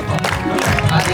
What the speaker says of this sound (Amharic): ኧረ በደንብ አጨብጭቡላታ።